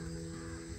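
Birds calling along a tree-lined nature road: a brief, crow-like caw over a steady bed of outdoor background noise.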